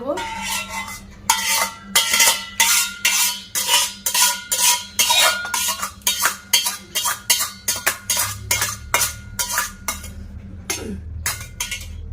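A spoon stirs sugar caramel into milk in a pan for Bengali misti doi, scraping and clinking against the metal in brisk, regular strokes that continue for several seconds up close.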